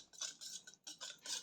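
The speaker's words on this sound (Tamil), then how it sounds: "கலக்கி விட்டுடலாம்" A spoon scrapes and clinks around a bowl of curd mixed with turmeric, asafoetida and salt for buttermilk kuzhambu, making several quick, close stirring strokes with brief pauses between them.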